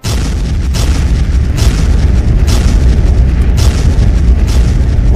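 Cannon fire from the 1667 Ottoman siege of Candia: heavy, deep booms strike roughly every second over a constant rumbling din, loud and close.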